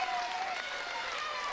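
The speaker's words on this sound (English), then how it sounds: "So now the silver team enjoying a round of applause" A crowd applauds the silver medal softball team at a European softball final, steady clapping filling the short stretch with a commentator's voice faintly over it.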